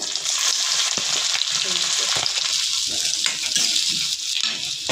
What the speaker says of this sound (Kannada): ಕರ್ಕೊಂಡಿರೋ ಶೇಂಗಾ ತಕ್ಕೋತೀನಿ ಉಳ್ಳಾಗಡ್ಡಿ ಹಾಕ್ತಾಯಿದ್ದೀನಿ